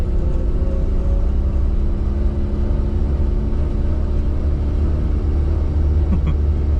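A 1981 Mini 1000's small engine idling and rumbling at low speed while parking, a steady, close, low drone with faint whir, running continuously with no talk over it.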